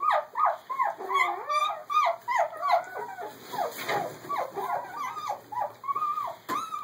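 Doberman puppies whimpering and whining in a continuous run of high, wavering cries, close and fairly loud, with brief growly grumbles mixed in and no talk.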